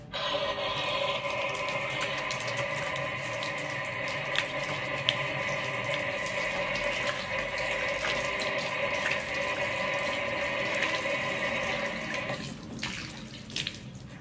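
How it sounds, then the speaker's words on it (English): Running tap water splashes steadily into a sink while hands are washed with Carex hand wash, a continuous close rushing flow that eases slightly near the end, with no talking. "I'm going to use this, is a Carex hand wash,"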